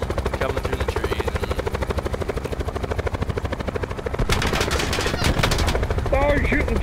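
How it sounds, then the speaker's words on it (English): Rapid automatic gunfire rattles steadily in Call of Duty: Black Ops 4 as players shoot at a helicopter, with rotor thrum and louder bursts joining partway through and brief voices near the end. "Oh, you're shooting the chopper!"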